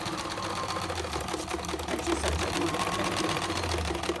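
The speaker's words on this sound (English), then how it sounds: "now I'm sewing it" A sewing machine stitching fabric for a reupholstered seat cushion, a steady, close mechanical whirring hum with a fast rhythmic needle clatter that runs without a break, quite loud, with no talking over it.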